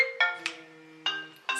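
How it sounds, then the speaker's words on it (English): A phone rings indoors, a few bright electronic tone bursts repeating at uneven intervals, clear and fairly loud with no speech. "sorry, that's the phone"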